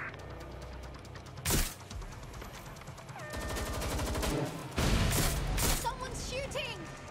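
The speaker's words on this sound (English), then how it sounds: "Someone's shooting." Gunfire in the video game Watch Dogs: Legion, with loud broadband bursts and rapid shot volleys around the middle and later part of the clip, mixed with game sounds and effects.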